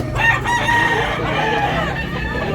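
Chickens at a market stall selling live fowl crow and cluck loudly and close by, the calls layered over a busy, steady background din.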